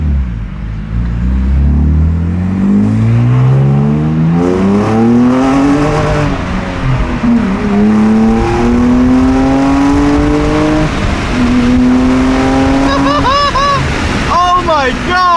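A Nissan 400Z fitted with catless downpipes accelerates hard under load, its engine note climbing steadily through gears with loud rising tones, heavy wind rush and crackling pops at the end, recorded from inside with occupants talking.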